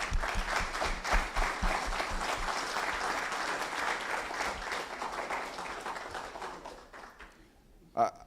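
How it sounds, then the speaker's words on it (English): An audience at an engineering school's major project conference breaks into sustained applause, dense and steady for several seconds before tapering off, with a last burst near the end. "So, I want us to just give them a round of applause, please."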